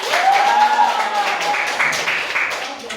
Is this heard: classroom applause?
yes